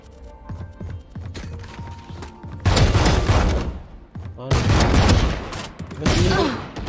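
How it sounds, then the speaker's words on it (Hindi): Bursts of rapid gunfire from a video game death match, loud and sustained in several long volleys with brief pauses between, over a busy backdrop of game effects and clattering. "क्या यार तीन गोलियों में भी नहीं मर रहा क्या"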